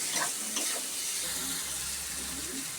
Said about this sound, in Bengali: চর্বিটা দিয়ে ভালো করে কষে এর মধ্যে এবার আলু দেবো।